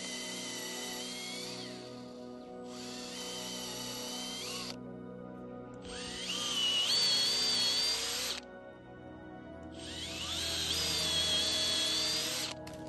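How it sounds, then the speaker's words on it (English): An electric drill whirs in three separate bursts, the later two louder and straining as it bores holes into a wooden log, with short pauses between. "I'm going to drill some holes and hammer my little dowels in here"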